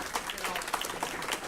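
Crowd applause at a middle school gathering, a brief burst of scattered clapping from the room with some talk mixed in underneath.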